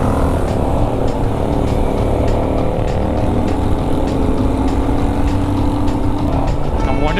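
A motorcycle engine's exhaust rumbles steadily and loudly throughout, a dense continuous low drone with no pauses, close by during a bike ride to Ladakh.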